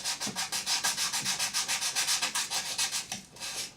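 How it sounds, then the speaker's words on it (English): Rhythmic back-and-forth scratching of wet and dry sandpaper rubbed by hand, quick even strokes repeating steadily, close and moderately loud. "I'm just going around sanding."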